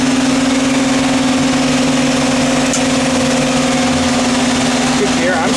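Engine of a 1955 Chevrolet 210 running at a steady idle, a loud, even drone that stays close and constant throughout, with no talk over it.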